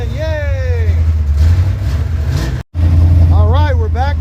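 A car engine, just restarted after choke adjustments, runs and idles with a loud, steady low rumble while someone talks over it, broken by one brief cut.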